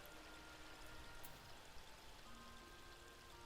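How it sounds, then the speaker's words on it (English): Gentle running water in the video game Final Fantasy XIV trickles and splashes continuously at low volume, a soft steady stream with no voices. "You hear the water running, you hear the crickets."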